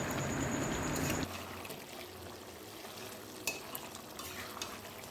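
Fried dhoka are stirred into a simmering cauliflower and potato curry in a pan: a loud sizzling stir at first, then softer scraping and occasional clinks as the mix settles.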